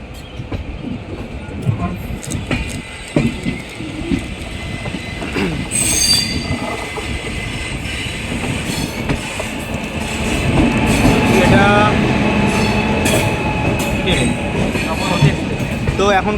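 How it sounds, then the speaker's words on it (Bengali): Train number 19166, the Sabarmati Express, passes an Indian Railways train on a neighbouring track near Akbarpur Junction. Wheels clatter loudly and squeal in a continuous rumble that builds toward the end, heard from inside the moving train. "তো এখন ক্রস করছে ট্রেন নাম্বার 19166 সবরমতী এক্সপ্রেস।"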